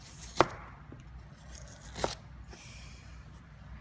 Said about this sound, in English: With the onion, cut it in half through the core, and then make wedges with a little bit of core on each wedge.